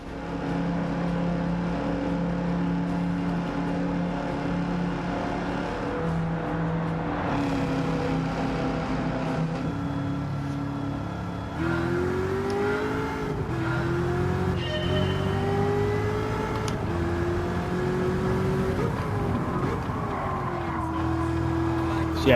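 A race car in Gran Turismo 7 laps the Interlagos circuit, its engine droning steadily and rising and falling through gear changes across a long stretch of continuous driving.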